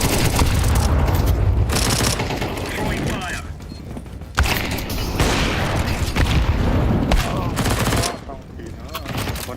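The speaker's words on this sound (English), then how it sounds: "Throwing a grenade." Grenade blasts and gunfire from a Counter-Strike 2 match: loud, dense bursts of booming noise and clattering shots with sharp onsets near 4.4 and 8 seconds, heard throughout under faint background voices.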